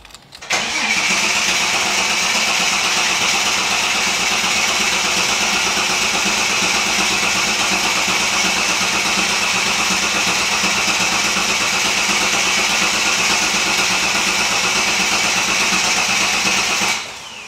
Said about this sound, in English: the book says to crank the vehicle while turning lock to lock